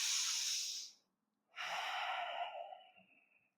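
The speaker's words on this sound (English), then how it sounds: "Take a few deep breaths here." Two deep breaths during yoga practice, a long steady exhale followed after a short pause by a long inhale, close and breathy with no talking.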